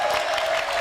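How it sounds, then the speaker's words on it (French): A studio audience gives a short burst of steady applause to welcome guest Adèle Rumba onto a French talk show set. "On va l'applaudir pour accueillir Adèle Rumba."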